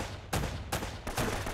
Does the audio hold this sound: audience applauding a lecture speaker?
no